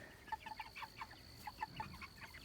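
Meat chickens clucking inside a chicken tractor, a run of short, close clucks in a quiet setting.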